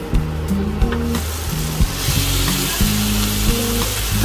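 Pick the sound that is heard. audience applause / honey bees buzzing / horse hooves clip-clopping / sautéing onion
sautéing onion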